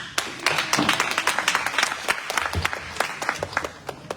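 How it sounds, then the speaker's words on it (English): A town hall audience gives scattered, uneven applause for a few seconds, individual claps standing out sharply up close before thinning out, with faint murmuring beneath. "a big round of applause for everybody who came out"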